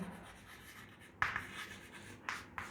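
Chalk or marker strokes on a board while a physics problem on tension in a spring is being written, a few sharp close taps and short scratches in a quiet room, no talking.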